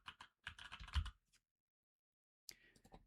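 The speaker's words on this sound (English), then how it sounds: "I'm going to be unoriginal and just type the same as the package title" Bursts of typing on a computer keyboard, quick clustered keystrokes close and fairly quiet, then a pause of silence before a second shorter flurry of taps.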